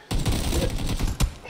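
Gunfire in the battle royale shooter PUBG, a loud close burst of rapid automatic shots after a short silent start, with a sharper crack near the end.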